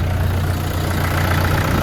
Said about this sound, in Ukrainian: Все, вмикаю все освітлення, запускаю трактор.